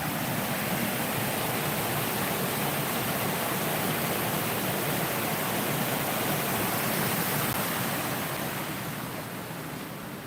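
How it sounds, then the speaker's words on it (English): Water rushes continuously at Mill Pond near a wheel house, a loud, dense, even hiss and roar that holds steady throughout and eases slightly toward the end, with no voices. "You can obviously hear the water rushing."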